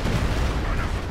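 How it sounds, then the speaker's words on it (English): Heavy artillery from a real-time strategy game, with Katyusha rockets and Panzer units in action, forms a dense, continuous rumble of booms and gunfire without distinct gaps, mixed with faint speech. "It's artillery everywhere right around the middle area."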